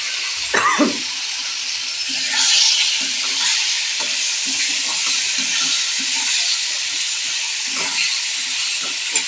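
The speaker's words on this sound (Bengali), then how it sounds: "খুব ভাজাচ্ছে হলুদ আছে একটু।" Turmeric fries in hot oil with a steady, loud sizzling hiss that fills the whole stretch, with a few soft clinks and stirring scrapes close by.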